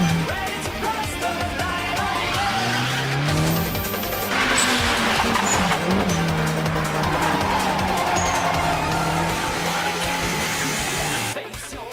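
A Toyota 86 with a turbo drifts at full speed, its engine droning steadily with rising and falling pitch while tires squeal and skid throughout, the sound loud and continuous before cutting off near the end.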